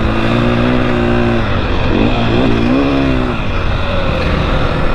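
A 2021 KTM 500 EXC dirt bike revs hard on an MX track through whoops, a loud close engine drone wavering in pitch as the throttle rises and drops, steady throughout with no talking.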